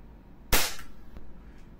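A single sharp crack from a WE Glock 17 Gen 3 airsoft pistol, loud and close, followed by a brief hissing decay and a faint click, with a quiet background before and after.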